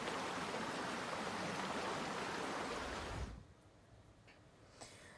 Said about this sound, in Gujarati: ઝરણાનું પાણી કેદારનાથ ડેમમાં વહીને આવતા આ કેદારનાથ ડેમ ઓવરફ્લો થયો છે